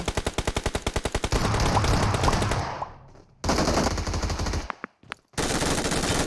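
Loud automatic gunfire in the video game PUBG Mobile opens with a rapid burst of evenly spaced shots, then dense sustained firing. There are brief drops to near silence, then more heavy bursts.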